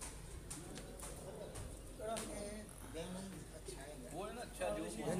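A racing pigeon landing at its loft during a competition in bad weather gives soft, repeated low coos, heard under someone talking nearby amid background noise.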